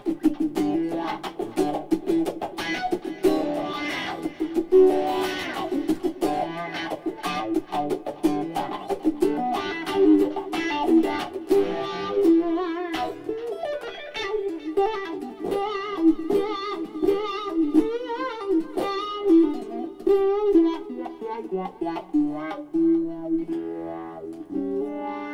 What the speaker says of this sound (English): Now I put a distortion in there so I can get more of that.